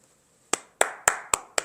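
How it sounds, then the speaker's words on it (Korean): Five sharp, distinct hand claps ring out in a church sanctuary during a sermon, spaced roughly a quarter second apart after a brief quiet start, each with a short room decay. "박수 쳐드릴게요."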